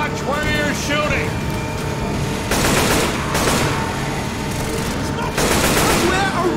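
Gunfire in Left 4 Dead 2 on the Crash Course campaign, rapid bursts of automatic fire recurring in loud stretches over a dense game soundscape, with voices talking throughout.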